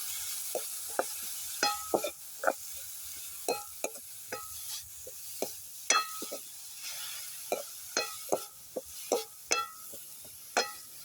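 Carrots, green chillies and beaten rice are stir-fried in hot oil, with a faint background sizzle under a series of sharp spatula taps and scrapes against the pan in an irregular rhythm, close by with no talking.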